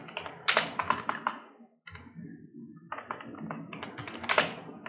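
Typing on a computer keyboard, heard close up as fast bursts of clattering key taps with a short pause in the middle and no talking.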